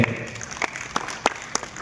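Applause from an audience welcoming a speaker at the Vibrant Kutch agriculture business program in Gandhidham, a short burst of scattered claps that fades quickly.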